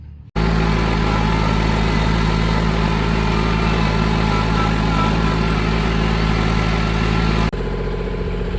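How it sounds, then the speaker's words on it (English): A backhoe tractor engine idles loudly and steadily at close range, a continuous low throbbing rumble that drops in level slightly near the end. "We got a tractor with a backhoe"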